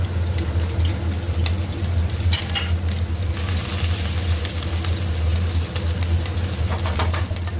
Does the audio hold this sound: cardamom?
yes